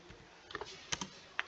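Short bursts of close computer keyboard typing, a handful of light clicks spaced irregularly, quiet and without talking.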